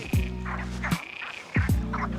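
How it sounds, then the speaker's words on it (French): Frogs croak at a small pond in the Fanal forest area of Madeira, giving three loud, close, throaty calls at roughly even intervals, each ending in a rapid rattling burst, with quiet gaps between them. "C'est que des grenouilles."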